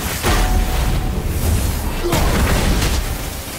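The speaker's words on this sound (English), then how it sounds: "You can see when I destroy their barriers, it makes an explosion." In the video game God of War, smashing enemy barriers sets off explosions: loud, heavy booms and bursts that fill the whole stretch, with a sharp hit midway.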